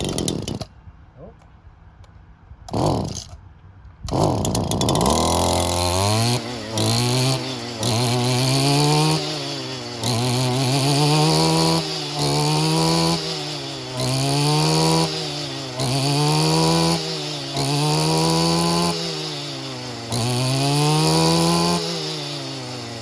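A Kubota lawn tractor engine sputters through a few brief tries, then catches and runs loud and near, its pitch swelling and dipping in a repeating cycle as the throttle rises and falls.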